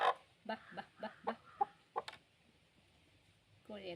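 Backyard chickens, a hen with her chicks, give a run of short clucks in an irregular rhythm at close range, followed by a pause and a brief burst of a further call near the end.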